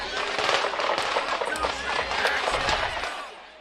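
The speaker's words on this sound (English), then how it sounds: "You just heard the rapid gunfire." Rapid gunfire rings out at the Chiefs Super Bowl rally, caught on a news camera: a burst of sharp cracks echoing amid crowd noise and shouting voices, distant and reverberant.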